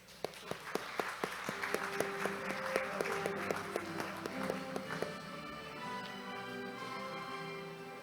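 Audience applause breaks out at an accounting society award ceremony, a dense crowd of clapping with a few sharp nearby claps standing out, held at a steady level through the whole stretch with faint background tones beneath.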